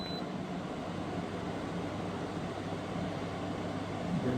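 A Midea 8000 window air conditioner runs on its medium setting, a close, loud, steady blowing whoosh with a low hum underneath that holds constant throughout, with no talking.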